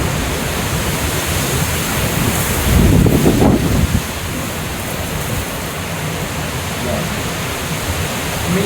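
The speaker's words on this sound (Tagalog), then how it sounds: "Umiikot yung hangin." Strong swirling wind roars steadily during a severe thunderstorm, buffeting the microphone in broad rushing noise, with a louder gust swelling for about a second midway.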